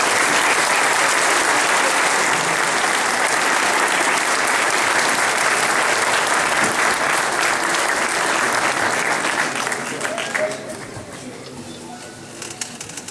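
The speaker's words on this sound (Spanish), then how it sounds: "Recibamos con un fuerte aplauso al coro de niños." A loud crowd applauds a children's choir after a Christmas concert, dense sustained clapping that holds steady and then thins out near the end.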